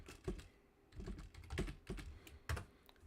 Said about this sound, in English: Here, I'll type it out.